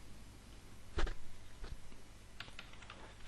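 Keys tapped on a computer keyboard as text is typed, a few faint scattered clicks over a low room hum, with one sharper tap standing out.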